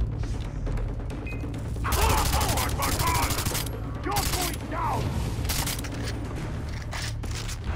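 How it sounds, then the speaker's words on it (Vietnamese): Rapid gunfire from a newly acquired gun in the Far Cry 3 video game, with repeated loud bursts of shots and a voice talking intermittently underneath. "Cái này bắn gần như không giật luôn."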